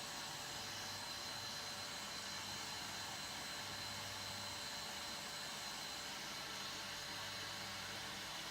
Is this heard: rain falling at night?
no